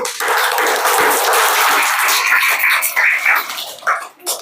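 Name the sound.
schoolchildren applauding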